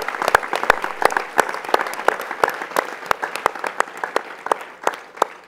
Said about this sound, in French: Oui, on va les applaudir, oui.